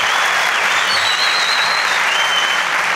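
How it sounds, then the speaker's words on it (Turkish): Studio audience at a televised Turkish talent show finale bursts into steady, dense applause that fills the space continuously and loudly from start to finish, with no voices standing out. "Alkışlıyoruz."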